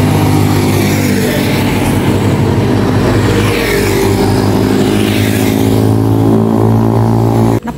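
A motorized tricycle's engine drones loudly and steadily for several seconds as it drives off, a continuous low mechanical rumble with a hard cutoff at the very end, with no voices over it.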